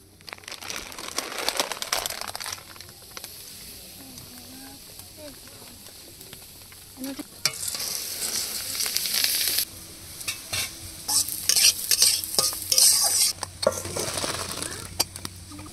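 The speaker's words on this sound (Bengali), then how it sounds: "প্রথমে মুগ ডালগুলো ভেজে নেব।" Washed, drained mung dal frying and being stirred in a little oil in a wok, giving a close, busy rustle and scrape with louder bursts of sizzling and clatter in the second half.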